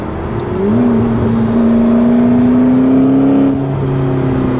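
A stock McLaren 650S engine revs up and holds a smooth, rising whine, then eases off, heard close and loud with no talking.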